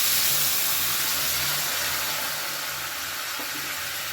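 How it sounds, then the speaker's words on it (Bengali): Prepared vegetable broth poured into a hot pan of tempering spices and curry leaves gives a loud, steady broadband hiss and sizzle that fades slightly over several seconds, with no talking. "এবারে তৈরি করা ঝোলটা আমি এর মধ্যে ঢেলে দিই"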